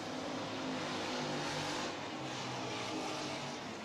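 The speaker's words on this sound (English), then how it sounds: "Cars starting to spread out now." Street stock race cars roaring around a track during a nighttime feature race, engines droning in a dense, steady wash of noise at a moderate distance, with no talk heard.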